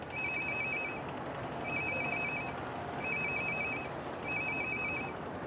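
A telephone rings in four evenly spaced electronic bursts, each about a second long, clear and moderately loud over a faint room hiss.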